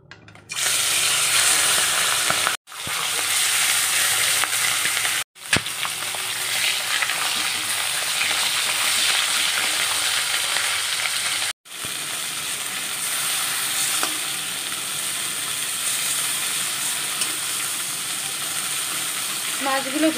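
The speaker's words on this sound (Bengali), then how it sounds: "মাছগুলো আমি ভেজে দিই" Fish pieces frying in a pan, a loud dense crackling sizzle that runs steadily, broken by a few sharp cuts to silence, with a faint voice near the end.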